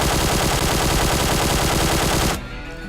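QBZ assault rifle in PUBG Mobile fired through a 3x scope in one loud, sustained automatic burst of rapid shots lasting over two seconds, then cutting off to a quieter tail.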